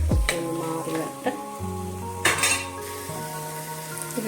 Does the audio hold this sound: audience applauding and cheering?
no